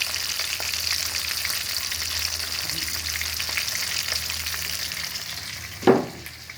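Tilapia fries in hot oil with a continuous bubbling crackle that stays even and close, broken near the end by a single sharp clatter.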